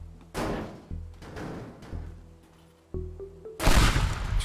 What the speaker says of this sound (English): Propane tanks explode when thrown.